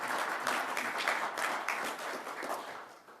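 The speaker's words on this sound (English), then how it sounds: "I can see there's some Ontario folks in here too clapping" An audience at Ontario Premier Doug Ford's address to the U.S. Chamber of Commerce claps in a steady, moderate round of applause that swells and then gradually thins out.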